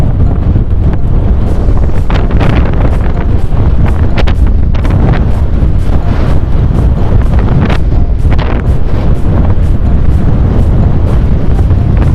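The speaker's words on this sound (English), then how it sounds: "You don't hear anything, and I literally mean anything other than the sound of the wind." Heavy wind roaring across the microphone while riding a Komaki X3 electric scooter at speed, a loud, steady buffeting rush with gusty bursts and no voices.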